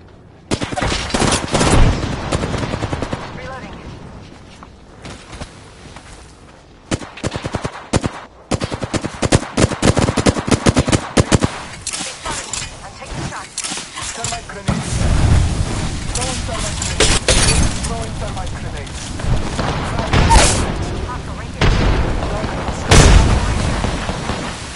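Frag grenade blasts and bursts of automatic gunfire in an Apex Legends firefight come in loud, dense volleys with booming explosions and short gaps, and a voice speaks between them.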